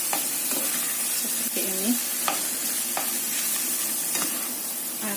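A spatula scrapes and stirs vegetable fried rice in a sizzling frying pan, with steady frying hiss and repeated clinks of the utensil, while a person speaks briefly.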